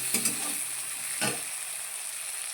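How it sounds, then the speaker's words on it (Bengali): Shrimp with black cumin and garlic fry lightly in a pan, a steady soft sizzle punctuated by a few sharp stirring scrapes near the start and middle. "কালো জিরে, রসুন আর হলো চিংড়ি মাছ দিয়ে দিয়েছি, একটু হালকা ভেজে নিচ্ছি"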